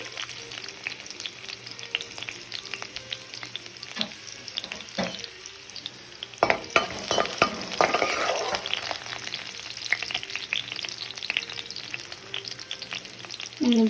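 Sliced onions hit hot oil with garlic in a pan for veg Hakka noodles, a steady crackling sizzle under scraping stir strokes, growing louder midway as they fry, with no talking.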